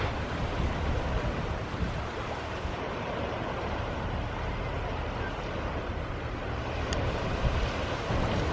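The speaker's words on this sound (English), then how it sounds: "And now I'm on Tavern Beach at St Mawes" Surf rolling onto Tavern Beach at St Mawes, Cornwall, a steady broadband wash with wind buffeting the microphone, continuous and moderately close, with no voices.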